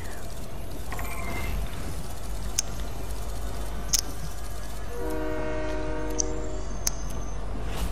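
A train in Fortnite rumbling past with a steady low mechanical drone, clanking metallic hits and a sustained horn-like tone near the end, fairly loud with no talking.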